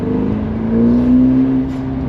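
A Ferrari Portofino V8 pulls gently away from a standstill on cold rear tires, its smooth engine note rising and swelling briefly, loud and close.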